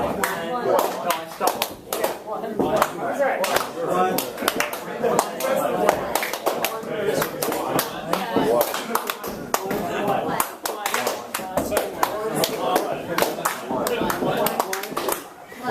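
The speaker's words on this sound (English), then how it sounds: "One clap." A group of people in a workshop clapping game claps repeatedly, the hits ragged and uneven rather than one clean unison clap, with talking throughout.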